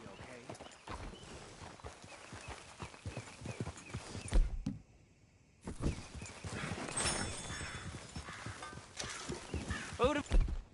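Horse hooves in Red Dead Redemption 2 clip-clop steadily beneath ongoing speech, with a brief neigh and a short quiet gap midway through.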